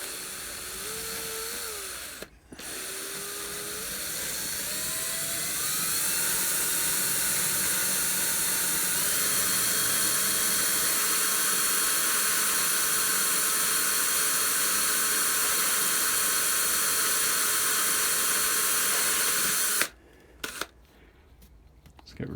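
A pillar drill bores through plastic for wormery aeration fittings, giving a steady high-pitched whine sustained for most of the stretch, with brief clicks and knocks at the start and end.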